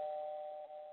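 A single soft electronic doorbell chime sounds alone, holding a clear, steady tone.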